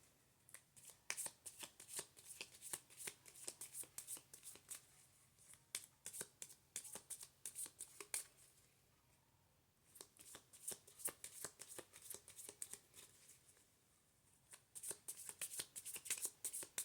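A small tarot deck shuffled in close, quiet bursts of rapid papery riffling and tapping, pausing briefly around the middle before resuming, with no speech over it.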